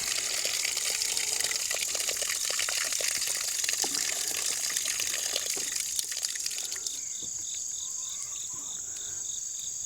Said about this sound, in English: it's actually overflowing out of the top right here, so it must be completely full